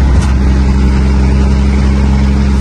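A truck engine drones steadily while cruising down the road, a loud, even low-pitched hum with constant rumble and no speech over it.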